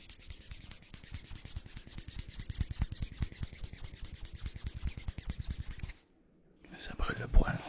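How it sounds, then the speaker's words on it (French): An object rubbed rapidly back and forth on a hand in an ASMR doctor roleplay, close, dry rhythmic brushing strokes for about six seconds, a brief pause, then a little talking. "si je frotte sur ma main."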